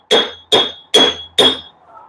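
Four sharp hammer strikes flattening weld filler on a metal universal joint cross part, evenly spaced, each with a short ringing tail, close up and loud.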